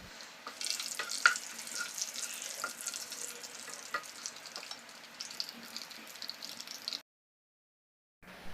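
Biryani spices sauté in hot oil, a bright steady sizzle with occasional pops and spoon scrapes, close up, cutting off abruptly near the end.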